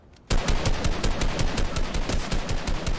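Rapid automatic gunfire in Fortnite starts abruptly after a brief quiet moment, then continues as a loud, evenly spaced stream of shots.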